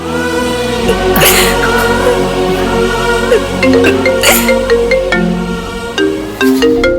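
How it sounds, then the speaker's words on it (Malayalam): A mobile phone ringtone plays a loud, bright melodic tune with repeating tonal notes and chime-like accents, close by and alone. "ഈ ഫോൺ ഞാനൊന്ന് അറ്റൻഡ് ചെയ്തോട്ടെ"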